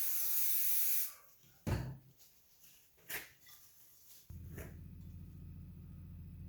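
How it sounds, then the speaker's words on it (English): Brake cleaner sprays onto a Honda B18B1 distributor cap in a loud close hiss for a second, then quieter wiping rubs and scuffs follow, ending in a low hum. "We just need some brake cleaner and a rag essentially, and just wipe it up"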